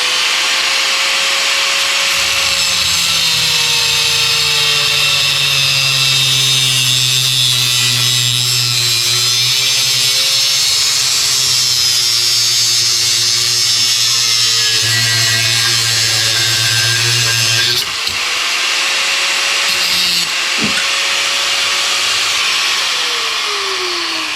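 A loud power tool cuts through a metal part of a Toro Recycler push lawnmower, grinding continuously for over twenty seconds, its pitch wavering, briefly cutting out and restarting near the end.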